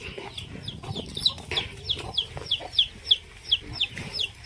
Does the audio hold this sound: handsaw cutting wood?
no